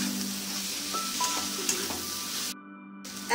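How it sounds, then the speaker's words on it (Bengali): Soybean chunks stir-fry in a pan of cooked spice masala for a soybean and potato curry, with a steady close sizzle and occasional scrape of stirring, cutting out briefly near the end. "এবার সয়াবিনটাকে ভালো করে কষিয়ে নেব।"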